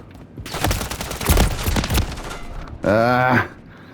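Gunfire in the Call of Duty Modern Warfare 3 video game, a dense burst of rapid shots followed by a short loud tonal effect, with a player's voice over the shooting.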